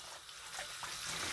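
Carrots are scrubbed with a sponge under a running tap, a steady, quiet hiss of flowing water with soft rubbing.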